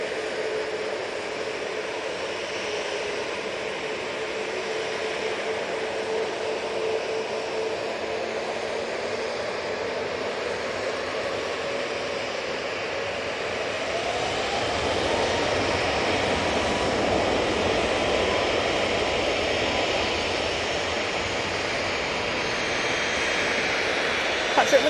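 A Ryanair jet airliner at Manchester Airport gives off a steady, broad engine roar that swells a little louder toward the end, heard from a moderate distance.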